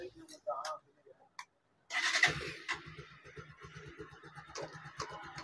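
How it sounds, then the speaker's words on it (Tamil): A KTM NS 200 / Duke 200 motorcycle, just fitted with a slipper clutch and fresh oil, fires up after a brief pause and settles into a loud, close, steady idle with a rapid pulsing beat; a voice is heard at the start. "வண்டியை ஸ்டார்ட் பண்ணி டெஸ்ட் ட்ரைவ் பண்ணி பார்த்துடலாம்."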